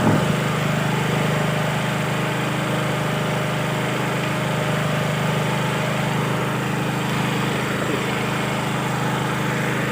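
A Robin RHV6100 generator engine runs steadily and loudly, a continuous close drone with no breaks and no voices.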